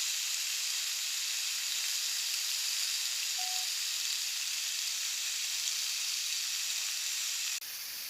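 Beef steak sizzles steadily on a grill after being flipped for medium-rare, a constant bright hiss with no talking, briefly dropping in level near the end.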